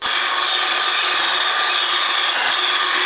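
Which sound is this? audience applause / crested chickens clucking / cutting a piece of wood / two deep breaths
cutting a piece of wood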